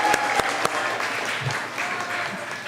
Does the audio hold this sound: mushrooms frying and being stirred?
no